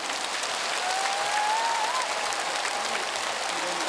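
Large church congregation at a Catholic healing and praise gathering applauding a priest, a steady wash of clapping from a big crowd, with a faint tonal sound drifting underneath.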